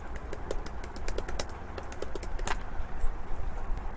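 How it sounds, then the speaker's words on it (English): Typing into a search bar on a computer keyboard: a quick, uneven run of close, crisp key clicks in short bursts, with faint bird calls in the background. "Under search bar type Quick Announcement Banner."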